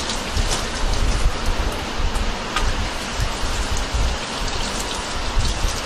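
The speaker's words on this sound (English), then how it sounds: "You're going to just give the brisket a good rinse." Steady, dense rushing of cold running tap water splashing over a brisket being rinsed, continuous and fairly loud throughout, with no voices.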